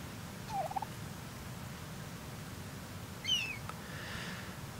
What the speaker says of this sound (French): Il y a le petit aigle du coup.